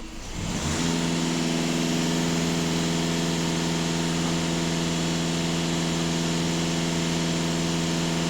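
A Skoda A7 4x4 engine is revved up from rest and then held at a steady raised speed, a loud, constant droning hum with no voices.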